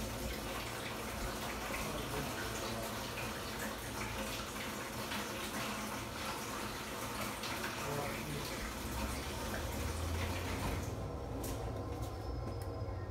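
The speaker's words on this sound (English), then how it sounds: "So I've turned the tap on, calling for heat, the tap neons begin to flash." Hot water running from a tap fed by a Baxi 600 combination boiler, a steady broadband rush of flowing water that continues unbroken, fairly faint, with someone talking over it.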